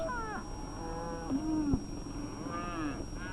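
Cattle low and moo in livestock stockyards, with a few drawn-out calls of varying pitch heard at moderate distance against a steady background hum, and no talking.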